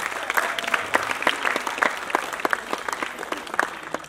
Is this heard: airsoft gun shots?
no